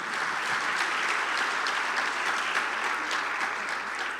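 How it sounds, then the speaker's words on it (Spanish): A church congregation applauding the Lord at a Spanish-language service, a steady, dense wash of many hands clapping throughout, fairly loud and without pause. "Vamos a darle fuerte ese aplauso al Señor"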